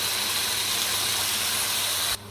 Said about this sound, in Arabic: هبتدي اسقيه بالشوربه او بالميه